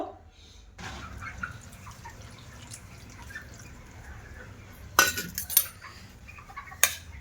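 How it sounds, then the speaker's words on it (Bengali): Warm milk is poured into a bowl of washed flattened rice, a soft continuous trickle close by, punctuated by a few sharp clinks of a utensil against the bowl. "এবার চিড়ের মধ্যে আমি দুধটা ঢেলে দেব"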